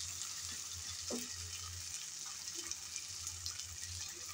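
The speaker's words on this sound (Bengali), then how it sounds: "আমি নেড়ে চেড়ে আদা রসুন বাটা ও পেঁয়াজের সাথে ভেজে নিলাম।" Ginger-garlic paste and onion sizzle steadily in a pan, a continuous close frying hiss broken by occasional soft scrapes and taps of a stirring utensil.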